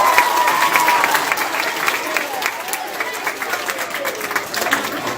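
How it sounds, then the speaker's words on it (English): A room of schoolchildren applauds classmates who brought in canned goods for a food drive, a lively, fairly steady wave of clapping with some cheering that gradually thins toward the end. "Give them a round of applause, everybody."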